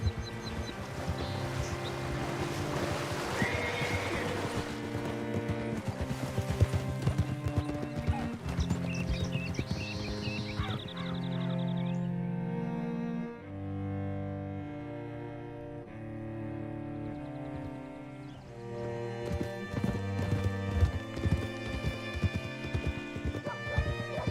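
A horse galloping in Red Dead Redemption 2, a steady clip-clop of hooves running under loud in-game music for the whole stretch.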